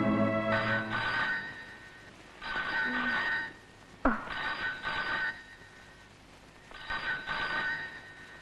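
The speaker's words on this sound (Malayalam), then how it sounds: "ഫോൺ" A telephone rings in repeated bursts, about four rings separated by short pauses, moderately loud with a faint voice briefly between rings.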